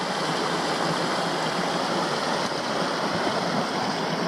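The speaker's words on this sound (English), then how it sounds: "Not a bad flow of water either for summer." Steady broadband rush of the Humboldt River flowing in Tasmania in summer, a continuous close stream of water with no voices.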